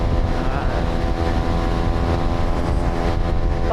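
Motorcycle engine held at half throttle on a road ride, a loud, steady drone with a constant hum and wind buffeting at the microphone, with no talk over it.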